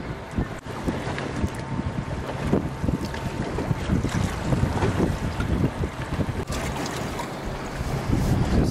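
Strong wind buffets the microphone on a fishing boat in Buffalo Harbor on Lake Erie, a steady roaring rumble with water slapping and gusting noise throughout.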